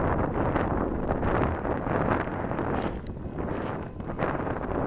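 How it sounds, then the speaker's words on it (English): Strong wind roars and buffets the microphone in steady heavy gusts outdoors, loud and continuous, while a Freewing Seagull 64mm EDF glider is flown in high wind. "the wind is really knocking this thing around"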